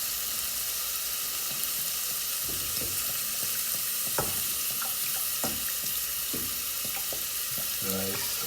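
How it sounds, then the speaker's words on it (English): Water pours into a pot of rice that already holds onions, garlic and Maggi seasoning, giving a steady rushing splash with scattered clinks and bubbling, close and continuous, with no talk. "Rice, water until the rice is covered."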